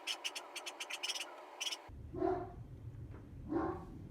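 Two Great Danes barking at a house, a quick run of sharp, fairly distant barks followed by a few louder, deeper barks at a different spot.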